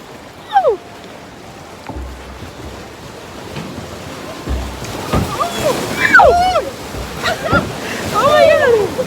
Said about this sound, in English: The waves are so strong right now!